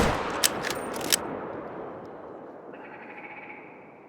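A high-power rifle fires at a moose in a hunting game: a sharp, close shot rings out and rolls away into a fading echo, with a faint mechanical click near the end.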